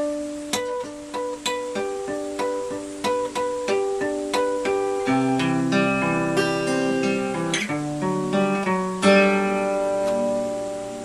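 A steady guitar intro of plucked notes and ringing chords from a song, starting with bright, bell-like picked tones and building into fuller strummed passages, played alone.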